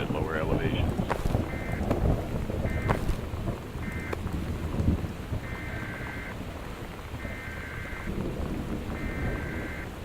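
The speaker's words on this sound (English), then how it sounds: "The Northwest Weather Service reports high winds with torrential rain conditions affecting the following counties." High winds and a storm in the video game Gone Home: a constant wind-and-rain rush with a few thunder-like thumps early on, then repeated short beeping alert tones over the weather.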